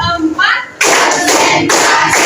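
In a classroom, students clap hands in a counted rhythm. A voice counts at the start, and then loud bursts of group clapping arrive in distinct blocks separated by a brief pause.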